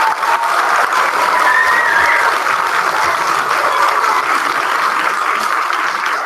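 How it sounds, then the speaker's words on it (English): Loud, sustained applause from a sizable audience at a fourth grade music program, steady clapping filling the room without pause. "Let's give these fourth graders one more huge round of applause."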